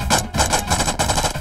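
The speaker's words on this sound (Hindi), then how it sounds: "चला गोली, चला भाई गोली चलाओ, चलाओ भाई चलाओ" Rapid bursts of gunfire from an action movie, dense repeated shots in quick succession, loud and close throughout the short stretch with no clear talk.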